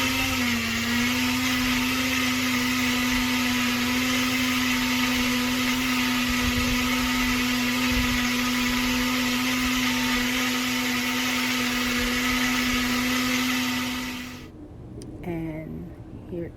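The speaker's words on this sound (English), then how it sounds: "Okay, to the blender we go." A kitchen blender purees soaked sea moss with water in a loud, steady whirring drone that holds one even pitch for about fourteen seconds before the motor cuts off abruptly.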